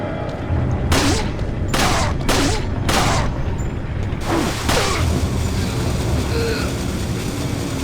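Pistol shots in Resident Evil 4, four loud cracks in quick succession with echoing tails, then a fifth, over a steady low background rumble.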